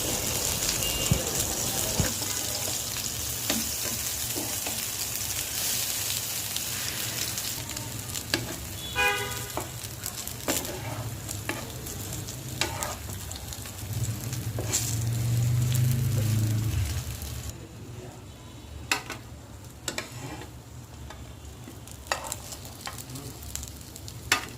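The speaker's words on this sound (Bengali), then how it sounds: "বেগুনগুলি পাতলা পাতলা করে ভেজে নিতে হবে।" Thin slices of eggplant fry in hot oil for begun bhorta, giving a steady, close sizzle with bursts of crackling and a few stirring clinks, and a brief louder hiss near the end.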